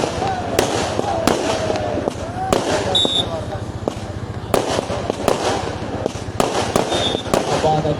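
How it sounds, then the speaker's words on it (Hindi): Fireworks burst repeatedly at a volleyball semi-final match put on by a sports club, sharp cracks and bangs arriving in irregular clusters over crowd noise, with someone talking throughout. "और आतिशबाजी की जा रही है यहाँ पर"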